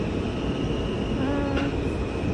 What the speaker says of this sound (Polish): My w metro.